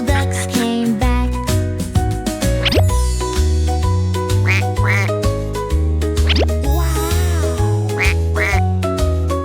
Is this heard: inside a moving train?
no